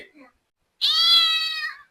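A single clear, drawn-out cat meow, close and fairly loud, following a brief bit of quiet voice.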